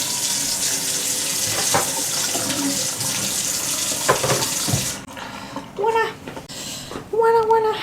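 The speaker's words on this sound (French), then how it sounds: "attendez, je lave mon ciseau" Water from a running tap splashes steadily while scissors are rinsed under it, loud and close, cutting off midway; someone speaks briefly afterwards.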